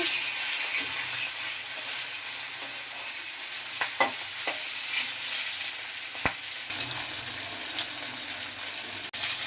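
Flipped hilsa fish pieces frying in oil in a pan, a continuous close sizzle with occasional sharp pops and spatters and a short scrape partway through.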